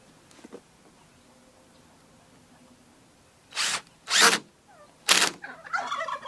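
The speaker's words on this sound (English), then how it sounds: "you can just drill through the bottom" A power drill bores through the bottom of a workpiece in a few loud, close bursts, a longer whir and then a short final spin, with rustling handling noise afterward.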